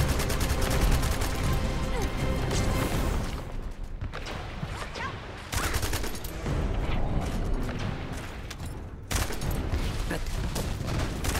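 Heavy video game gunfire from The First Descendant pours out nonstop, a dense barrage of rapid shots and blasts that dips briefly twice before surging back at full intensity.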